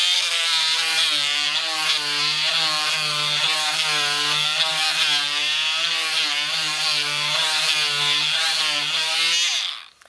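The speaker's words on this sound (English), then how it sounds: "it's a lot easier to sand and more dust comes off" An oscillating multi-tool sands soft softwood plywood with P80 grit paper, giving a steady, loud, high buzzing drone that runs unbroken for about ten seconds before cutting off at the end.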